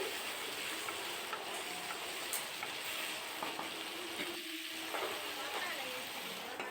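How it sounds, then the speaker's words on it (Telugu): Cut potatoes fry in a pan over a low flame for a prawn and potato curry, producing a steady, soft sizzle with a few faint stirring clicks. "కట్ చేసి పెట్టుకున్న ఆలు వేసుకొని ఒక రెండు మూడు నిమిషాలు వేయించాలి"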